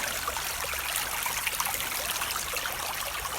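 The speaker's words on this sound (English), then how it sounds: "Got some rapids to navigate here." Rushing river rapids during an urban walk across Cardiff, a steady broadband wash of water that stays loud and even throughout, with no talk over it.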